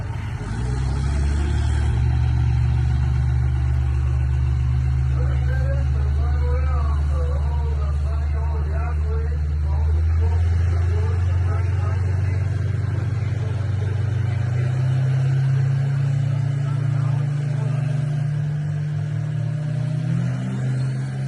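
White Duramax diesel truck in drag racing finals, a loud steady engine drone running the whole time with pitch climbing as it accelerates down the strip, crowd noise faintly beneath.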